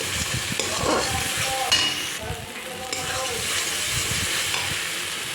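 Fried masala for a bhola fish curry being stirred in a pan, a steady sizzle running throughout with occasional spatula scrapes, close and continuous.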